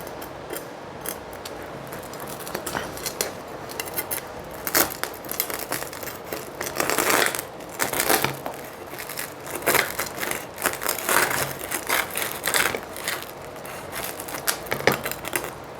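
A knife cuts through a piece of vegan French bread pizza, producing crunchy, crackling crust sounds in uneven bursts, fairly close and moderately loud.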